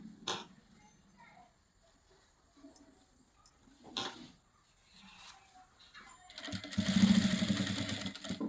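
A sewing machine stitching piping onto cloth, starting with a few short bursts and then running in a loud continuous whir near the end, with a voice talking quietly in between.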